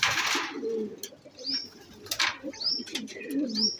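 Racing pigeons back from a single toss coo and call near a loft, soft repeated coos with brief chirps and some wing flutter, with a louder rustling burst at the start.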